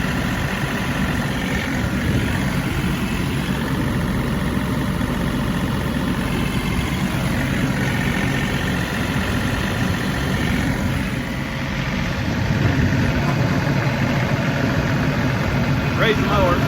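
A riding mower engine on rough, sloping terrain gives a continuous, even, mid-pitched rumble that holds steady throughout, with a person talking over the drone.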